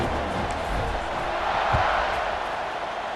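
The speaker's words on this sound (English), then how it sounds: "Do you think this crowd's going to get loud when their defense comes on the field?" Football stadium crowd at a kickoff, a broad steady roar of many voices with a swell of cheering, heard from a distance and fairly faint.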